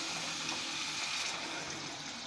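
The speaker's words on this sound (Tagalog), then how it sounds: "lagyan natin ng tubig" Water is poured into a pot for braised beef soup, a steady, unbroken rushing splash heard alone for a couple of seconds.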